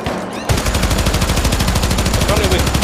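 Rapid automatic gunfire from the co-op shooter Syndicate, a dense, loud burst of evenly spaced shots that starts abruptly after a brief pause and keeps hammering for over two seconds.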